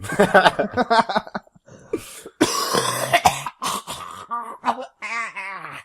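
Several rough, deliberately exaggerated coughs and throat-clearing bursts, loud and close, broken up by strained vocal noises and short pauses.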